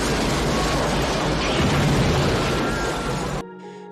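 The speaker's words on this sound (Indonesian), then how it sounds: "tiba-tiba ledakan besar terjadi." A big car bomb in Eraser (1996) erupts as a loud, sustained roaring blast that fills the sound for over three seconds, then cuts abruptly to quiet tones.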